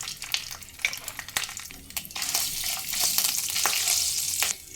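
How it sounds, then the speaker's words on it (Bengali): Cardamom, a piece of cinnamon, panch phoron and ginger paste hitting hot oil for a vegetable dal: scattered crackles and stirring taps, then a fuller, steady sizzle that swells midway and cuts off near the end, close by with no talking. "তেল গরম হয়ে এলে দিয়ে দেবো একটা ফাটিয়ে নেওয়া ছোটো এলাচ এক টুকরো ডালচিনি আর কোয়াটার টিস্পুন পাঁচফোড়ন আর দেবো এক স্পুন আদা বাটা"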